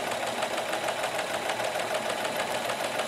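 A Kenmore cam sewing machine runs continuously at a steady speed, its rapid, even mechanical clatter loud and close throughout.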